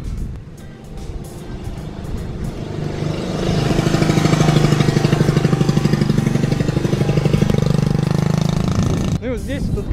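Motorcycles passing on a mountain road in Vietnam, a pulsing engine drone that swells loud and close before fading, with someone talking over it.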